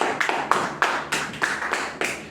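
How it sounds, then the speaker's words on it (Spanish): Congregation clapping at a church service, a series of about nine sharp, distinct claps in a loose, uneven rhythm, close and moderately loud, with no talk over them. "Dale un aplauso a Cristo."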